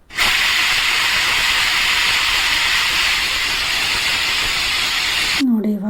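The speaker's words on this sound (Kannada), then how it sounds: "ಇವಾಗ ಕುಕ್ಕರ್ ಲಾಕ್ ಮಾಡ್ಕೊಂಡು ಕುಕ್ಕರ್ ವಿಷಲ್ ಕೂಗಿಸ್ಕೊಂಡು ಬರ್ತೀನಿ" A pressure cooker whistles in one loud, steady, hissing blast lasting several seconds while vegetable pulao cooks, then cuts off abruptly.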